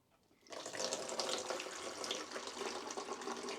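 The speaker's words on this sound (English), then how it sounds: "Add water and pour." Water pours through a funnel while making a homemade cola drink, a quiet gurgling splash that starts abruptly and runs continuously, close and alone.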